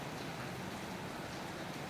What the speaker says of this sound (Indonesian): Walaupun hujan.